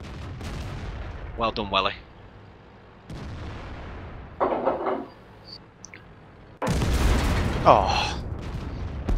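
Booming tank cannon shots in World of Tanks during a clan team battle, several heavy blasts spaced apart with rumbling tails, while players talk between them.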